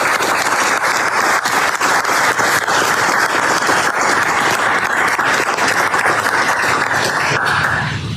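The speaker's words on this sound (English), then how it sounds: "a brief round of applause for them" A crowd at a U.S. Navy change of command ceremony gives steady, dense applause for navy families, continuous and fairly loud for several seconds before easing slightly at the end.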